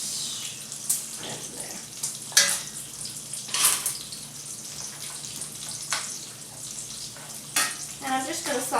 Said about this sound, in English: Just let your bacon cook on one side slowly, and let it finish, and then turn it.